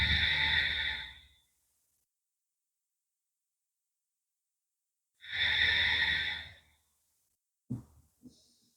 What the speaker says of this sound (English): Give it a few deep breaths in place right here.